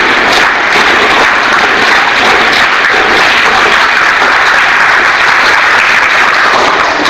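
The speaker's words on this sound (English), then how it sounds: "Clap like this when I do this." A classroom of teacher trainees claps together on cue, a dense, steady wash of many hands sustained loudly throughout without pause.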